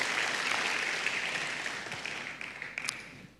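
A church congregation applauding during a sermon: dense, sustained clapping from a large crowd filling the room, strongest at first and then thinning to scattered claps toward the end.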